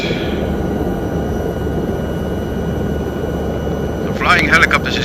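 A Lama helicopter in a flight simulator game flying over Brazil gives off a steady, dense engine and rotor drone with a faint high whine, and someone talks over it near the end.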